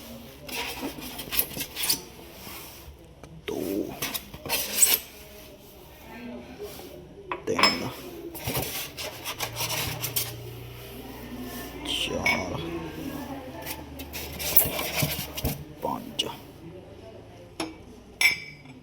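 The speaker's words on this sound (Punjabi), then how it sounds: "ਕਾਫੀ ਪਾਤੀ ਹੈ ਸਾਰੇ ਕੱਪਾਂ 'ਚ" Beaten coffee is portioned into several cups, producing scattered clinks of cups, spoons and dishware, close and intermittent over about nineteen seconds, with a person talking at times.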